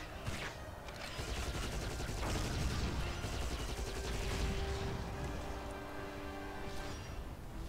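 Gunfire in the PC game Giants: Citizen Kabuto, repeated rapid shots and mechanical clatter forming a dense, continuous firefight bed, moderately loud, with no voices over it.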